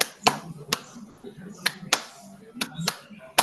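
Sharp, bright hand claps in a classroom clapping game, landing in short pairs and singles spread across a few seconds, close and distinct with quiet room murmur between them.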